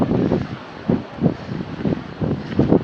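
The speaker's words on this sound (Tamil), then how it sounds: "சரியான காத்து." Strong mountain wind buffets the microphone at a rocky viewpoint on Parvathamalai, a steep, dangerous trek, producing loud, continuous low rumbling with gusts that surge roughly every half second to second.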